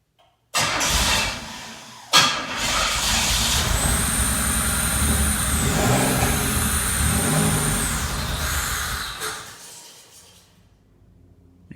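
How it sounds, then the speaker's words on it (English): An exotic kit car engine, primed with starting fluid, cranks and catches, then settles into a loud, steady run with a few rev swells before dying down into silence. "So let's go ahead and fire it up and see what happens."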